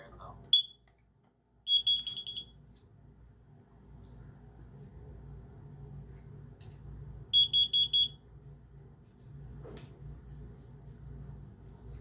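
A smoke alarm under test gives two short bursts of shrill, rapid beeping several seconds apart, each of about four pulses, against a quiet room with faint background noise.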